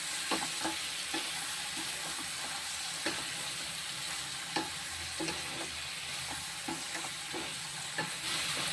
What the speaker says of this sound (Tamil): இதை நல்லா அந்த வெங்காயம் தக்காளியோட போட்டு வதக்கணும்.